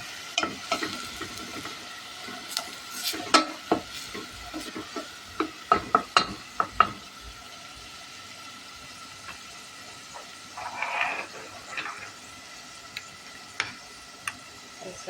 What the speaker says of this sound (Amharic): ሽንኩርታችን እንግዲህ በደንብ ማብሰል አለብን